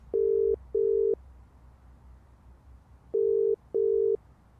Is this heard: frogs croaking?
no